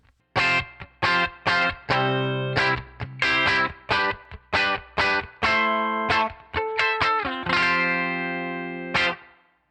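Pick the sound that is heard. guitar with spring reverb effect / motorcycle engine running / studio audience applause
guitar with spring reverb effect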